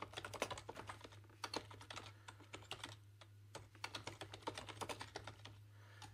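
Fingers type on a computer keyboard while entering text into a field, producing rapid, uneven bursts of close key clicks over a steady low electrical hum, with no speech.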